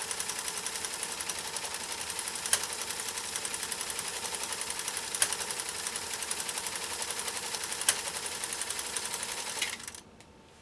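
A Pfaff 332 sewing machine runs steadily at close range, stitching with a loud, fast, even clicking rhythm, broken by a few sharper clacks. It stops abruptly at the very end.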